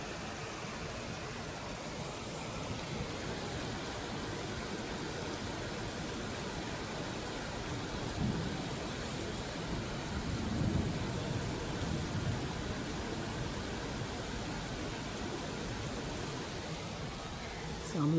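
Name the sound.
rain falling at night outside an apartment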